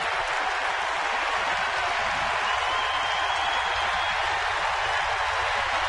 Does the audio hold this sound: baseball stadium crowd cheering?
yes